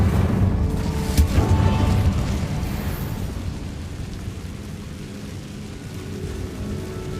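Fire spell cast in the Hogwarts Legacy video game inside a goblin mine, a loud rumbling whoosh of flame with a burst near the start that settles into a steady roaring crackle.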